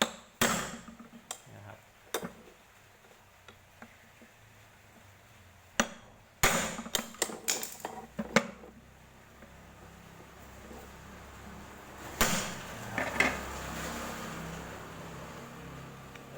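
A screwdriver staking a fan bushing lock ring during a fan repair: sharp metallic taps, single hits at first and then quick clusters around 6 to 8 seconds and again near 12 seconds, close and alone.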